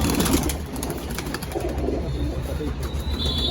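A Rampuri pigeon is released outdoors and coos as it flies upward, with soft flutters heard over steady background noise while a person talks nearby.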